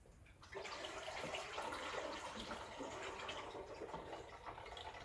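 Water pours steadily into the tank of a Breville Dual Boiler BES900 espresso machine, a continuous splashing rush that starts abruptly and runs on at moderate, close volume.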